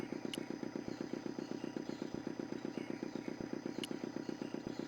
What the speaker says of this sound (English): The motor spluttered into life.